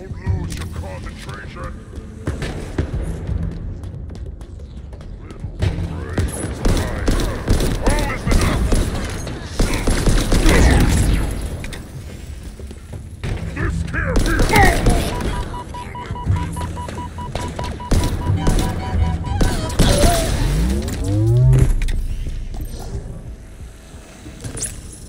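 Rapid bursts of gunfire from a Halo Infinite campaign battle, repeated volleys with explosions and effects, mixed under frequent talking from a player.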